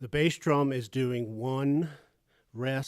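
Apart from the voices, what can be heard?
No everyday noise stands out behind the speech.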